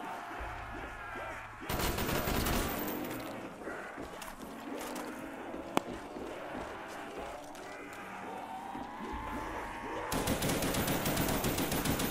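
A weapon in Black Ops Zombies on the Shi No Numa map fires in long, fast automatic bursts, loud and continuous, with brief breaks between strings of shots.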